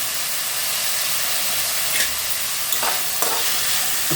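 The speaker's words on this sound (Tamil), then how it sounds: "காய் வதங்கும்போதே கொஞ்சம் உப்பு போட்டுப்போம். கொஞ்சம் மஞ்சள் பொடியும் போட்டுப்போம்." Vegetables sautéing in a pan with salt and turmeric, a loud constant hiss of frying with a few brief scraping stirs, close up with no voices.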